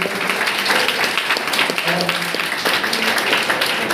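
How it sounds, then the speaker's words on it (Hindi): A crowd at a coaching-centre honour ceremony applauds students selected for the Indian Army, a dense, loud wash of clapping filling the hall with a murmur of voices underneath. "तो एक बार इन सभी स्टूडेंटों के लिए आपकी जोरदार तालियों से स्वागत है।"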